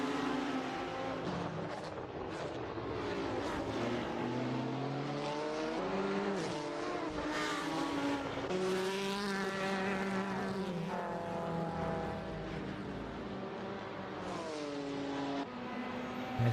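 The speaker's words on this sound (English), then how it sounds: "just listen to that engine noise. It's such a distinctive noise from that Lamborghini" A Lamborghini race car in a sim racing esports event at Portimão screams through the gears, its high engine note rising and dropping with repeated shifts and passing cars, loud and continuous without talk.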